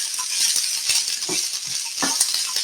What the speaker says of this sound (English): You can hear them sizzling in that oil.